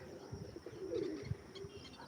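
At a pigeon loft, pigeons give a few soft, low cooing calls close by, faint and brief against quiet background noise.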